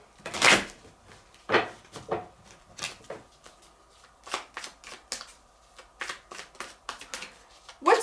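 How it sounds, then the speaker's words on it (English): Repeated riffling and slapping of tarot cards being shuffled, in short bursts with pauses between, close up and fairly loud. "Let's give it a good shuffle."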